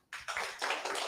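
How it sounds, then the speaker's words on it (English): Audience at a Brighton blockchain meetup breaks into applause, starting abruptly after a brief silence and continuing as a close, steady patter of many hands. "please give a warm round of applause"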